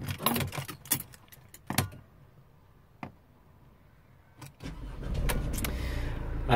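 A car engine turns over and catches after a few key jingles and clicks, then settles into a steady low idle.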